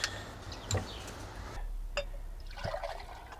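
Water splashes and trickles during fork seal replacement on a vintage Honda motorcycle, with a few sharp gurgles and drips in close, irregular bursts and no talking.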